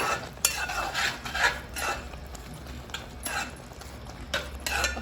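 Plain tomato curry stirred in a pan, a few scraping strokes of a spoon against the metal over a soft sizzle, close up with no talking.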